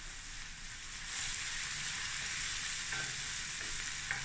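Garlic and ginger sizzle briskly in a hot pan as they are stir-fried, a steady close crackle with a few faint clinks of a utensil against the pan.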